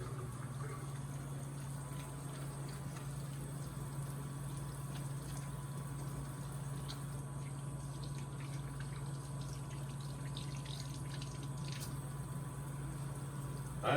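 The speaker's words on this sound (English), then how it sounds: "We recommend letting the water run for 5 minutes." A tap runs at a water sampling point during PFAS water sampling, giving a faint, steady hiss with no talk.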